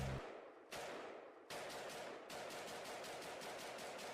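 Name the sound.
gunshots in a played rap track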